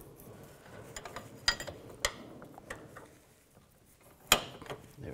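A wrench working on the inner tie rod of a 2004-2008 Nissan Maxima, giving faint metallic ratcheting clicks and a few sharper clanks spread irregularly over quiet garage background.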